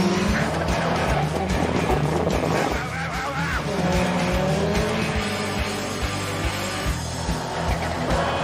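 A car launches hard after the brakes are released, its engine roaring loudly with squealing tires throughout, a dense continuous burst of mechanical noise with no voices over it.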